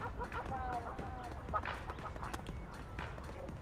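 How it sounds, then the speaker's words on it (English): Ducks quacking in the video game Splatoon 3, a few short nasal calls scattered over a busy background of game ambience and footsteps-like clatter, moderately close but not loud. "Birds."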